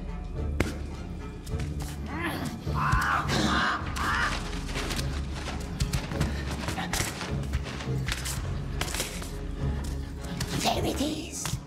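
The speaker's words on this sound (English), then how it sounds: "Nasty bird, it watches us, it spies on us." A crow caws repeatedly in the Lord of the Rings: Gollum video game, sharp calls scattered through dense game ambience with thuds and a raspy voice speaking over it.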